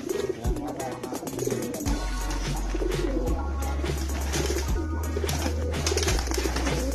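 Free-flying kolong pigeons in a loft collection in Pekalongan coo in low, repeated throaty calls, several birds overlapping nearby, with flapping and rustling sounds in the background.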